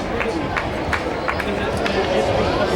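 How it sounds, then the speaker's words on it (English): A gym crowd murmurs steadily through a timeout at a basketball game, a constant babble of fan chatter with a few brief sharper sounds rising out of it. "Looks like quite the crowd we have here tonight."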